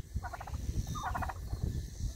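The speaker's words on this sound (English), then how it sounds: "look how big the turkeys are." Turkeys gobble in two quick rattling bursts over a steady low background rumble, fairly close and moderately loud.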